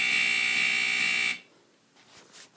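A smoke detector's older mechanical alarm gives one loud, continuous buzzing ring for just over a second, then cuts off abruptly into near silence.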